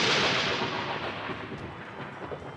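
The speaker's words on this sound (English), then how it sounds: "There was a most awful clap of thunder" A deep, rumbling crash rolls on and slowly fades, loud and broad like a clap of thunder.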